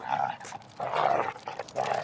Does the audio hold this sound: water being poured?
no